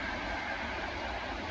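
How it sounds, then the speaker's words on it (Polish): A train rolls past close by, a steady, continuous rumble and rail noise holding level throughout with no voices over it. "Jeżdżą blisko pociągi."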